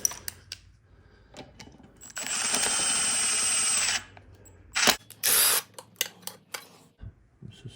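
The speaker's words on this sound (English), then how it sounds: "drill this out." Power drill boring out a fuel injector hold-down bolt on a Mercedes E320/E220/E270 CDI diesel engine, a steady two-second whine followed by shorter bursts amid clicks and tool handling noises.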